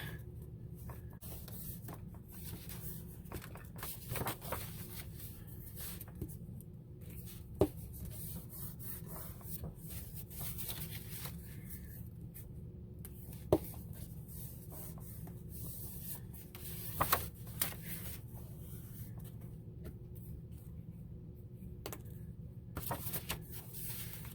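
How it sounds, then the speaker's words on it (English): A glue stick rubs across paper pages of an altered book: soft, quiet, continuous scraping strokes with a few small taps and bumps, close and alone with no talking. "Now I'm using glue stick. Just for speed."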